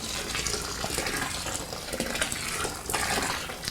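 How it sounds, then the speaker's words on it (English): Boiling water pours steadily into a home brew all-grain mash on a stove, a continuous close splashing gush with slight surges and no talk. "just add a little bit of boiling water to this"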